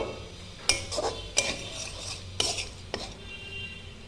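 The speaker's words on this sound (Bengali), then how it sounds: "আমি সব উপকরণগুলো ভালো করে কষিয়ে নেব।" A spatula scrapes and clinks against a pan as ground cumin, chili powder and grated coconut are stirred and sautéed for a moong dal and papaya curry, with a few sharp metallic knocks spread over a soft background.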